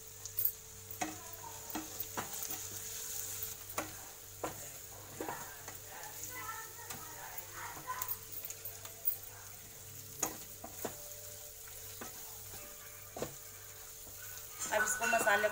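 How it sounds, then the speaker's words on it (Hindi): Ground spices — coriander, red chilli, turmeric and garam masala — roasting in a pan for baingan bharta, a low steady sizzle punctuated by repeated sharp spoon taps and scrapes, growing louder near the end. "अब इसको मसाले को हम अच्छी तरह से भून लेते हैं थोड़ी देर"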